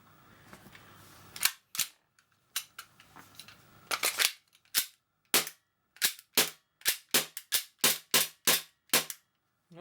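A Tokyo Marui G18c gas airsoft pistol fitted with a Nebula slide fires about twenty sharp, close cracks. They come singly at first and then as a steady rapid string, with quiet gaps between the shots.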